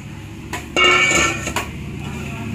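Chopped cauliflower and carrots tumble into a home-kitchen pan, a few sharp clatters and clinks standing out against a steady low background.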